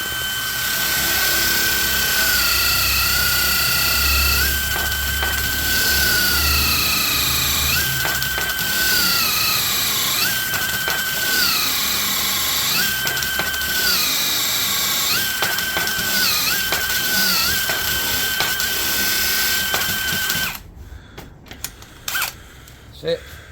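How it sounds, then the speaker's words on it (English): Small hole-cutting drill bit in a jig boring a hinge hole into a cabinet door, a loud, sustained high-pitched whine that bogs and recovers in several bursts, then stops abruptly near the end. "So I just got to use my little jig to cut the hinge holes."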